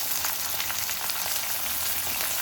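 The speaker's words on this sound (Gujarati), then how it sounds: "મસાલા ભીંડી બનાવવાની છે, એની માટે પહેલાં એને ફ્રાય કરવા પડશે તેલમાં" Okra fries in hot oil for a stuffed okra dish, giving a continuous dense sizzle and crackle close up, with no voices over it.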